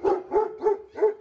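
A large guard dog at a kennel barks four times in an even, steady rhythm, each bark deep and close, with no other sound around it.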